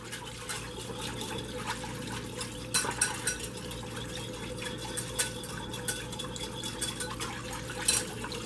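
Light liquid sloshing and a whisk tapping against a bowl as Swedish meatball sauce ingredients with salt and pepper are stirred together, a soft, irregular clatter against a faint background hum.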